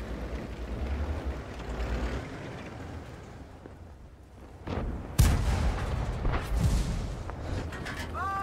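A sharp, heavy tank gun blast in the video game World of Tanks, from an M10 Wolverine, cuts through a steady rumbling background, followed by a lingering roar and scattered mechanical noise.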